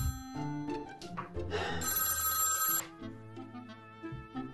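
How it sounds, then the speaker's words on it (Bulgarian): Telephone bell ringing in a video game, a loud close electronic ring with bright tonal bursts, mixed with game music, sustained for a couple of seconds before fading. "Пак ли някой звъни?"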